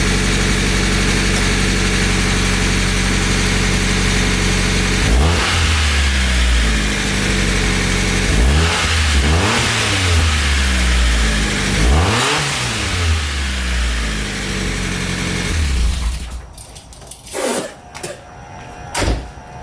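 A Mazda Miata engine with a custom stick-welded exhaust idles loudly, then is revved in several sharp bursts that rise and fall, followed by a choppier stretch near the end, all without talking.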